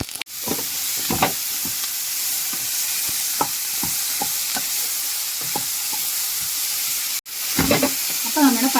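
Vegetables and mushrooms with a little salt sautéing in a pan for Kerala-style pasta, a continuous sizzle broken by repeated spatula scrapes and taps, brief gaps, and a clatter near the end.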